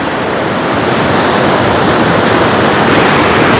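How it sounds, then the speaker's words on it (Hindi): Sandhoa waterfall in the Samahni valley of Azad Kashmir roars in a loud, steady, unbroken rush of falling water, close and continuous with no voices. "ये संदोवा वाटरफॉल है, बहुत ही खूबसूरत और प्यारी जगह है।"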